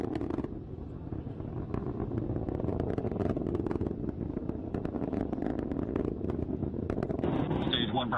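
A SpaceX Falcon 9 rocket on the Crew-9 launch roars and crackles continuously through its supersonic first-stage ascent, a dense rough rumble with a voice talking over it throughout.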